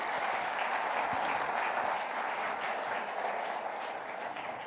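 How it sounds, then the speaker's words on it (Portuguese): A church congregation at a Portuguese-language celebration service claps steadily, a dense, even wash of applause that carries on throughout and fades a little near the end. "Queria que vocês aplaudissem a Deus pela vida do nosso pastor"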